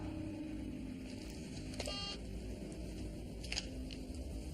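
A telephone is being dialed: two short bursts of electronic tone presses, one near the middle and another toward the end, over a faint background murmur.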